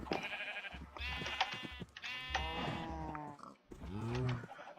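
Sheep in the Minecraft video game bleat several times in a row, close and clear, with short gaps between the wavering calls.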